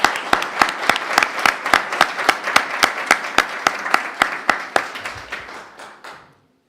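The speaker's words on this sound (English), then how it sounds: "And how about a round of applause for the teachers and our administrators?" A small audience at a school board of education meeting claps for teachers and administrators, a steady run of sharp, evenly spaced hand claps that thins out and stops near the end.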